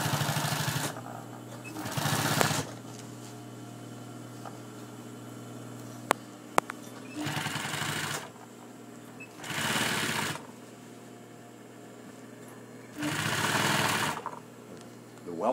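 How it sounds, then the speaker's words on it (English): A sewing machine stitches a throw pillow in several loud, steady bursts of a few seconds each, separated by quieter pauses with a low background hum. "Okay, let's get some more stitching done."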